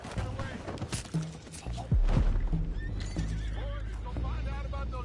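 A horse whinnies within the busy soundscape of the Red Dead Redemption 2 video game, among hoof clops, thuds, music and speech; the loud, continuous mix keeps the neigh partly buried.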